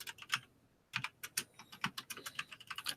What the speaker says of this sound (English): So I'm just typing something on my community tab.